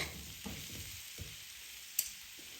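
Potatoes frying in a pan over a high gas flame while being stirred, a quiet sizzle broken by a few soft scraping strokes and one sharp clink.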